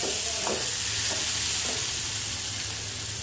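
Spice masala fries briefly in a pan with chillies for stuffed potato chillies, a soft but constant sizzle heard close with a few stirring scrapes early on and no voices.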